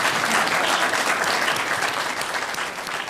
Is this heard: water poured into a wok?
no